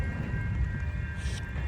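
A train rumbles past in the rain at Rochelle, a steady low roar of rolling rail cars with a faint tonal hum, continuous and moderately near, with no voices.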